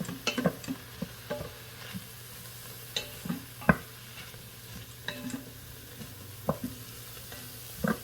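Celery cooking in a soup pot for vegan white bean soup, with a faint soft sizzle under scattered stirring clicks and spoon taps.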